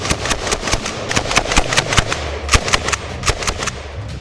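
Chauchat light machine gun from World War I firing in the Battlefield video game: rapid, uneven bursts of sharp gunshots, loud and close, with shot after shot cracking across the whole clip and no talk.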